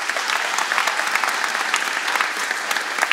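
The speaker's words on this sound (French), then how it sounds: "Je vous demande de l'applaudir." A crowd at an aviation museum inauguration applauds steadily and densely, a continuous wash of many hands clapping close by, with no voices standing out.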